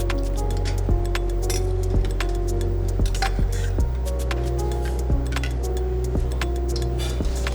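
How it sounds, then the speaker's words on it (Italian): Ice clinks in a water bath used for chilling cooked vegetables for a Russian salad, bright repeated glassy taps and rattles over a steady low hum, close and fairly loud, without speech. "le andiamo a raffreddare in un bagno di acqua e ghiaccio"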